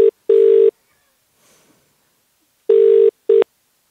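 A phone call ringing out: loud, clean electronic ring bursts in a double pattern, a pair at the start and another pair near the end, with near silence in between and no talking.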